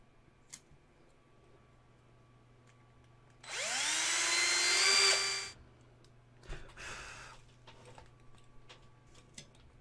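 A small power drill bores into a resin model kit for pinning, whirring for about two seconds with a rising pitch as it spins up, followed by a brief second burst, faint and close in a quiet room.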